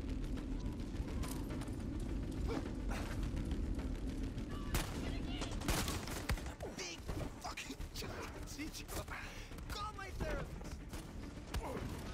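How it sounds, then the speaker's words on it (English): Light machine gun fire in Far Cry 6, a dense stretch of rapid shots and crashing impacts running throughout under game ambience, with voices talking over it. "He's got an LMG."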